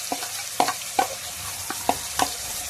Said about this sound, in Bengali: আজকে চলছে আমার কিচেনে মটন রান্না।